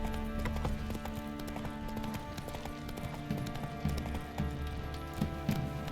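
Horse galloping in The Witcher 3: Wild Hunt, a fast steady clip-clop of hooves over game music and ambience, continuous and moderately loud.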